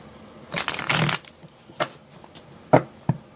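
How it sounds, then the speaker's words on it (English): Thick tarot cards being shuffled by hand in a series of quick riffling bursts, with a longer flurry at first and then a few shorter, separate shuffles and taps, close and fairly loud. "These are thicker and harder to shuffle sometimes"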